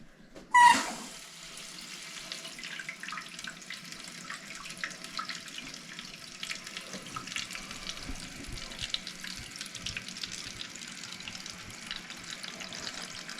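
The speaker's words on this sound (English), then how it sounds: "we're gonna go ahead and turn the water on and check for leaks" Water runs steadily into a newly installed American Standard toilet tank as it fills, a continuous hiss and rush with small gurgles that begins with a brief sharp clunk as the supply is turned on.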